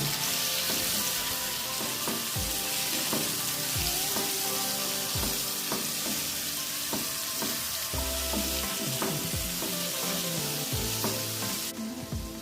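Paneer cubes frying in a pan for paneer pepper dry, being stirred: a constant loud hiss of oil with repeated scraping and knocking of the spoon against the pan, close up and without talking.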